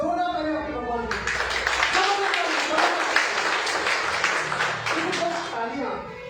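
Audience clapping breaks out after a Hindi-language talk at a multi-level marketing business event, a dense sustained patter of many hands that runs for several seconds before thinning, with a speaking voice heard over it at the start.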